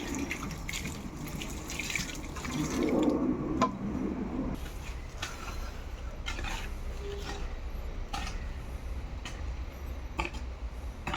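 Water runs and splashes for a few seconds, then settles into quieter trickling and scattered drips and squishy sounds.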